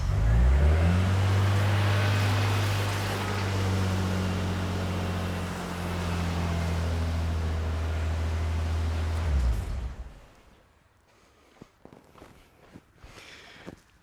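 A 1998 Nissan Skyline R34 engine runs at a loud, steady idle up close for about nine seconds, its low hum briefly rising, then cuts off, leaving quiet with a few faint clicks and knocks.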